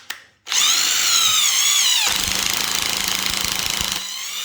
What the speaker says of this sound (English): I'm just going to go ahead and drill those in there.